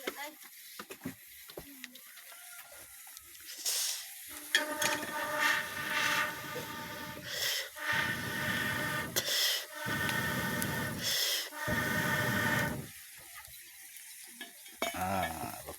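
Pork cooks with a spiced masala paste in a pan, giving bursts of sizzling and scraping stirring that start and stop, with quiet pauses in between.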